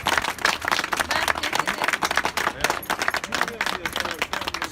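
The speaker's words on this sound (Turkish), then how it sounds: "Bir bak böyle bak herkes alkışlıyor." A crowd claps steadily, dense and sustained, with voices and cheering mixed in throughout.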